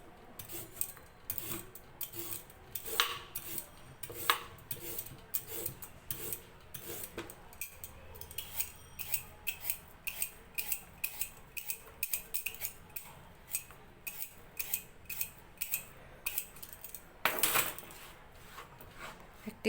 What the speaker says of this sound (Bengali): এখন গাজর দুটিকে ছিলে ছোট গ্রেটার দিয়ে গ্রেট করে নিতে হবে।